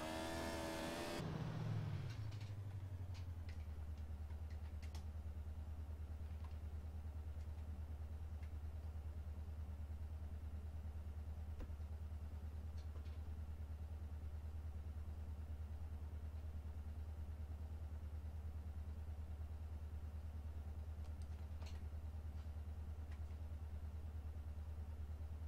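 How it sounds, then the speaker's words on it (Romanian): A motorcycle engine in the video game GTA San Andreas Multiplayer hums steadily at a low, even pitch after a brief louder burst at the start, continuing alone and fairly quietly throughout. "Am prins și eu cu motocicleta și mai văd."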